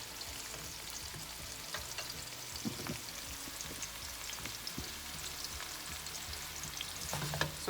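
Onions sizzle and fry in a pan over medium-high heat for vegan pinakbet, a steady crackling hiss with occasional stirring clicks and scrapes, close and alone.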